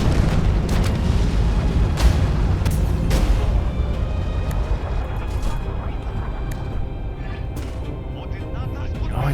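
Katyusha rocket artillery explosions in a tank video game: heavy booms and rumbling blasts, strongest early and fading to lighter thuds and pops, with someone talking over them.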